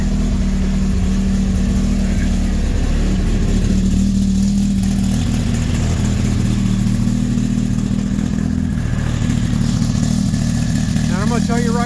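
A car engine idles steadily and loudly throughout, with a constant low rumble and faint higher whine, in an ignition test setup running batch fire injection and wasted spark.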